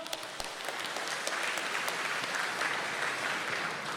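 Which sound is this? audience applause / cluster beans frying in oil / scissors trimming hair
audience applause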